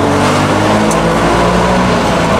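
A DKW Munga's engine drones loud and close from inside the moving vehicle, the steady roar swelling slightly as the throttle is blipped between gear changes, with no speech.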